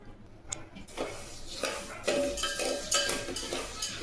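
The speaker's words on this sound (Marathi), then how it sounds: "जोपर्यंत साखर विरघळत नाही तोपर्यंत हलवत राहायचं" A spoon scrapes and clinks against a pot while sugar and water are stirred into syrup for besan puri laddu, soft irregular taps and scrapes, close and fairly quiet, with no talking.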